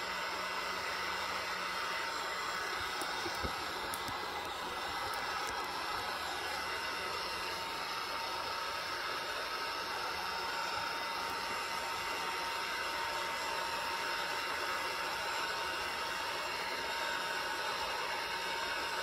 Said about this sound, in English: I'm going to turn on my heat gun. And it will be loud